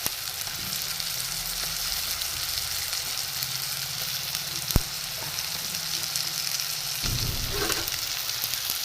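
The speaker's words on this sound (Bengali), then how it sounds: "এবার আমি ভেজে রাখা আলুগুলো দিয়ে দেবো।" Fried potatoes tumble into a hot pan of oil with grated ginger for a Bengali muri ghonto made with katla fish head, setting off a steady close sizzle, one sharp clack midway and a louder burst of frying near the end.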